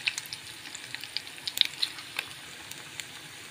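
Egg balls fry in oil over a medium flame with scattered sharp crackles and pops above a faint, steady sizzle.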